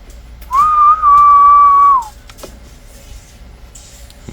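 A President Bill CB radio gives a clear, steady electronic whistle for about a second and a half when keyed. The tone cuts off abruptly, leaving faint background noise.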